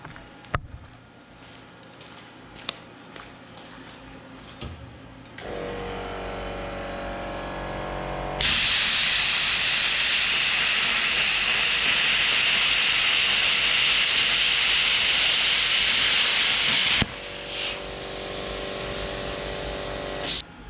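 A YesWelder Firstess 2050 plasma cutter with an onboard compressor cuts quarter-inch steel, giving a loud, steady roaring hiss that runs for several seconds after some clicks and a lower compressor hum, then cuts off abruptly.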